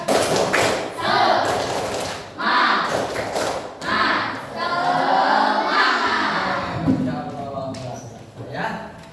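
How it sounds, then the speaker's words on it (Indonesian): Students in a classroom do a rhythmic spirit clap, with sharp bursts of claps and thumps in a patterned beat. Loud group chanting and voices run throughout. "Oke, dengan tepuk semangat."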